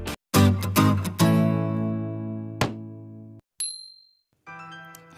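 Several bright electronic dings ring out in quick succession, each sustaining and decaying, followed by a short high chime and a softer final tone, loud and close with gaps of silence and no speech.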